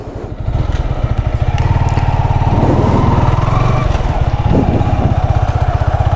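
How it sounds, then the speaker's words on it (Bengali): A blue Yamaha R15 v3 Indonesian-version motorcycle is ridden, its single-cylinder engine chugging in a loud, steady, rapid pulse close to the listener, with someone talking over it. "বাইক সম্পর্কে বাকি কথা আমি বাইক চালাতে চালাতে বলছি"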